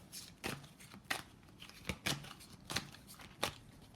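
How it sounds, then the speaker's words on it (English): Tarot cards shuffled by hand, a deck not yet used that day, giving a string of soft riffling bursts and papery snaps at uneven intervals, close and fairly quiet with no talk. "I'm going to shuffle one more time because I've not used this deck yet today"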